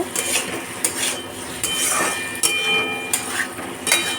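A spoon stirring ridge gourd, potato and poppy seed paste in a pan for Bengali jhinge aloo posto, with repeated sharp metallic scrapes and taps against the pan at an uneven rhythm, close and fairly loud.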